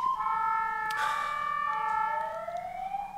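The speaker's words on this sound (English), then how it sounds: "They were coming to get her. The ambulance." An ambulance siren wails loud and steady, its tones gliding in pitch as it sounds continuously throughout with no talking over it.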